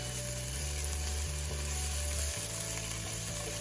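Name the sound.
stirring sizzling potatoes in a skillet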